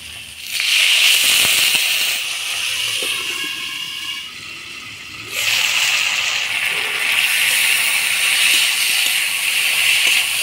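Water poured into a hot pan of frying potatoes and chilies bursts into loud sizzling and hissing, dips briefly, then surges again into a sustained, crackling spatter.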